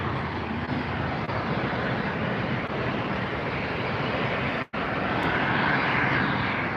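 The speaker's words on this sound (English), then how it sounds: "Frontier Airlines crossing now." Frontier Airlines jet crossing at LAX, a loud, steady broadband engine roar filling the clip from a fair distance, with one brief dropout near the end and no talking.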